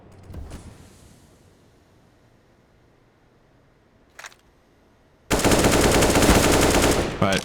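An AK rifle fires in a Counter-Strike match on the Vertigo map: after quiet game ambience and a brief distant shot, a loud sustained burst of automatic fire runs for about two seconds, close and harsh.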